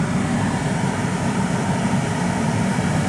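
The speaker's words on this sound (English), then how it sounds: "Okay, that's a done deal, and now the blower is working." A Chevrolet Astro van's newly replaced heater blower motor runs steadily, a constant broadband whoosh of fan and airflow with a low rumble, unchanging and fairly loud throughout.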